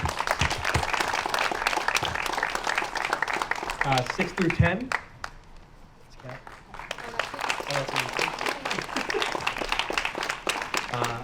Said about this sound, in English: You can applaud too.